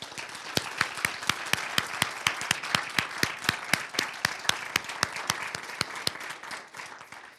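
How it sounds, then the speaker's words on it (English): An audience at a historic preservation awards ceremony applauds the Richmond Rotarians: sustained crowd clapping with one sharp, evenly spaced clap standing out nearby in a quick, steady rhythm, fading slightly at the end. "I'd just like to have a round of applause for them right now."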